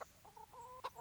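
Chickens in the medieval video game Kingdom Come: Deliverance give a few quick, soft clucks in a brief burst, faint and close with no talk over them.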